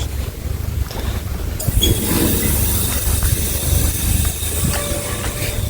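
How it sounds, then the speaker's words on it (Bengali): A train pulls into Singhabad station, a continuous low rumble with rising hiss and rattling, heard fairly close and loud, without talk. "ট্রেনটা এখনই ঢুকলো তো"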